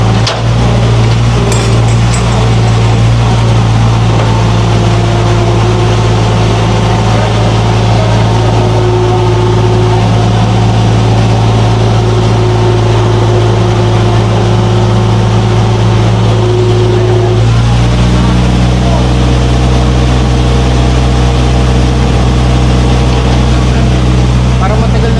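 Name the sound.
tow truck engine running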